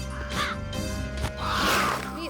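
Cartoon crows cawing in a village setting, a few harsh nasal calls close by, overlapping with a voice.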